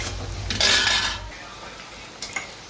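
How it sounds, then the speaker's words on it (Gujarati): A utensil stirs tomatoes and onions softening in a pan for a Gujarati drumstick curry, making a brief close scraping and clinking against the metal, then a quieter tap near the end. "ટામેટા અને ડુંગળી આપણી સરસ સોફ્ટ થાય. 2 મિનિટ હલાવવા દઈએ."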